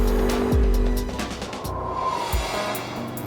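A Spider three-wheeled motorcycle accelerates on a slippery road under traction control, a loud engine roar with a sharp falling pitch sweep and tire noise, close, then easing to a steadier drone.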